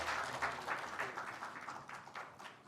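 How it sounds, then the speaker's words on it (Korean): An audience at a Korean journalists' association anniversary ceremony applauds after a plaque is presented. Faint, distant clapping continues with an uneven texture throughout. "큰 박수 부탁드립니다."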